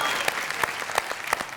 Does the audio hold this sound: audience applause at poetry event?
yes